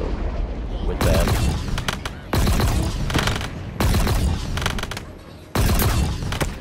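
Weapon fire in Halo Infinite during the campaign mission The Sequence comes as four loud bursts of heavy shots with booming impacts. Each burst lasts about a second, spaced apart with quieter game ambience between them.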